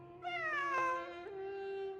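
A cat meows in one long, drawn-out, rising-then-falling call, clear and fairly close, with no voices over it.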